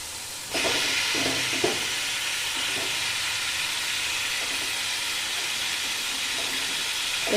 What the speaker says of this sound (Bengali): এবার আমি সেদ্ধ করা মাটনটা এর মধ্যে আমি দিয়ে দিচ্ছি